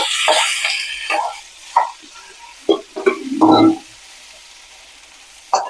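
Curry leaves and boiled potato go into a hot oiled pan, crackling in short sizzling bursts with stirring scrapes between quieter pauses.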